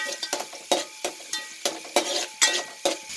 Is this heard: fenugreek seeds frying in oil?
yes